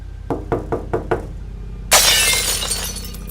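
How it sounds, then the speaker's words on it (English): Five quick, sharp knocks rap on glass in an even rhythm, then after a short pause a kitchen window shatters in a loud burst of breaking glass that trails off in tinkling debris. "There was this quick and sudden loud bang on the glass, followed by a window in the kitchen completely shattering"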